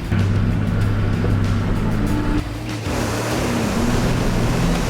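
A 4WD engine roars under load as it pushes through soft ground at Lorella Springs. The drone is loud and steady, dips briefly midway, then climbs again with harmonic revving, and there is no talk.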